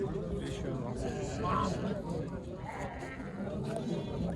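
Lambs and sheep bleat at a busy livestock market in Kara-Balta, their calls faint and scattered beneath steady crowd chatter and people talking up close.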